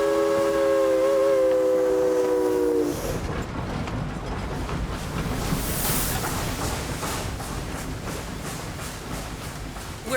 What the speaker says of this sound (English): experience an old-time train